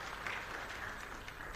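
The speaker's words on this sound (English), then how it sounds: "Please clap for" Audience applause during opening remarks at a Sahara Ventures impact report launch: a short, even stretch of crowd clapping with no clear voices.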